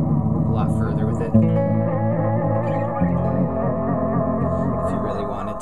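An ApeDelay delay effect with its modulation turned up smears a sustained, wavering instrument tone into echoing, chorus-like repeats, loud and continuous with a few rhythmic shifts.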